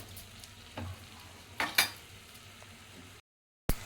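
Salted tomatoes for pav bhaji simmer in a pan, a soft continuous sizzle broken by a few brief scraping stirs, faint and close, ending in a moment of silence and a final clatter.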